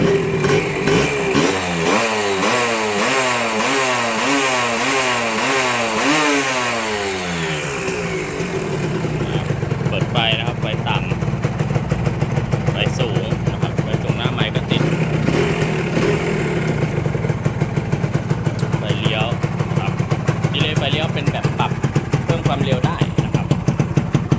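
A Honda Nova Dash 125 motorcycle engine starts with a loud, rising rev for several seconds, then settles into a steady nearby idle that runs to the end.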